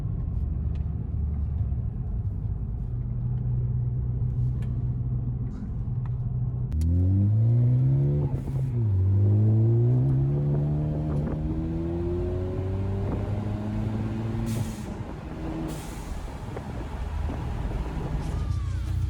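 A Ford Focus ST engine with an Accessport tune rumbles, then revs up with rising, climbing pitch as it accelerates through the gears, loud and close, with road noise continuing afterward.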